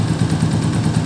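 A warmed-up Honda TMX 125 motorcycle engine runs steadily at close range, a smooth, even low thrum filling the whole moment with no talk.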